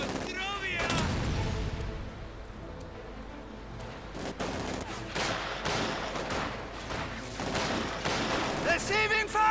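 Battle in the strategy game Company of Heroes 2, with dense overlapping rifle and machine-gun fire and distant blasts continuing throughout while a commentator talks over the action.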